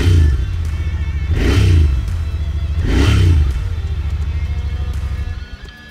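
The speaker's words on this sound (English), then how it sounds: "So very characteristic twin cylinder sound, the dual silencers." The twin-cylinder engine of a Royal Enfield Interceptor 650 with dual silencers is revved twice from a steady, loud, throbbing idle. Each rev rises and falls back, and the rumble settles lower at the end.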